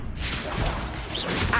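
Confringo blasting spell cast in Hogwarts Legacy, a dense, loud whooshing burst with crackling impact noise filling the whole moment, no talk over it.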